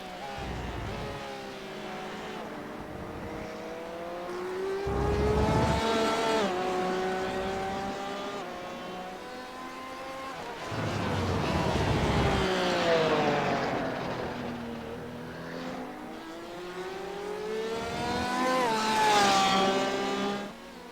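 A Porsche 911 RSR GTE race car engine in a sim racing video game at Motegi, repeatedly revving up through the gears with rising whines and sharp drops at each shift, steady and moderately loud throughout.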